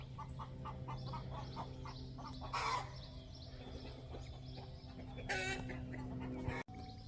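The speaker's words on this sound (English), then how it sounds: "the chickens are out." Homestead chickens clucking outdoors, a steady scatter of soft, fairly distant clucks over a low constant hum, with a couple of louder squawks.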